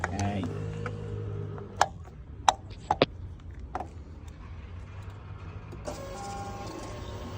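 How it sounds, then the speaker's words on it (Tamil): A Suzuki SV650 motorcycle's fuel pump primes after the ignition is switched on, making a short electric whirring hum followed by a few sharp clicks, with brief voices nearby. "ஃபியூல் பம்ப் சவுண்ட் கேட்குதா?"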